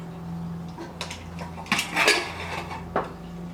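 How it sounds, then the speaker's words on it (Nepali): A metal pressure cooker holding goat leg soup is opened, with a few clanks and scrapes of the lid and pot, louder clatter near the middle, over a steady low kitchen hum. "अब यो कुकर पनि सेलाइसक्यो। अब यसलाई खोलौँ।"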